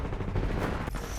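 Dense automatic gunfire from the first-person shooter Titanfall 2, a continuous rattling burst that fills the short moment at steady loudness with no pause.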